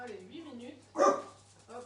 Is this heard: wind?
no